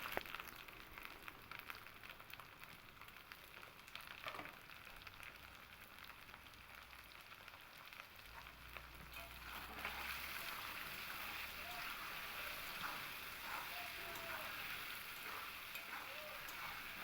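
Taro corms and potatoes fry together in hot oil with salt and turmeric, giving a steady soft sizzle that holds for the whole stretch, quiet and continuous without any voice over it.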